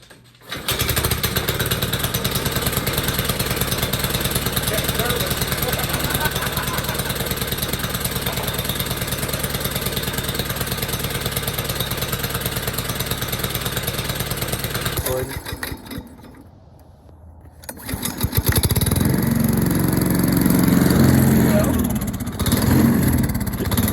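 A home-built cheap track sled with chains fitted runs on choke to warm up, its engine a loud steady drone with a brief dip near the end before it picks back up. Voices talk over the running engine.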